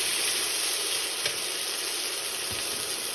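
A pork chop sears in a hot pan on its second side, giving a loud, unbroken close-up sizzle with a faint soft scrape or two.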